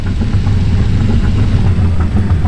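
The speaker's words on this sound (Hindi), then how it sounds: "इंजन तो अजीब सी आवाज कर रहा है 200 डॉज चैलेंजर का।" A 2000 Dodge Challenger engine idles in a car dealership video game, giving a steady, loud, low rumble that runs throughout with a slightly uneven texture and no talk.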